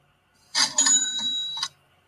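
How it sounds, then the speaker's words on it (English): A ka-ching cash register effect added over a drum beat: a bright metallic ring with sustained high tones lasting about a second, struck once and ending with a second hit, alone. "I did add a little ka-ching sound effect like this"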